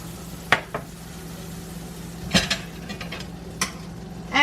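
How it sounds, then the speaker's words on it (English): Butter melts in a hot pan with a soft, low sizzle, broken by a few sharp clinks and scrapes of a utensil against the pan. "we're gonna melt a good amount of butter in this pan real fast"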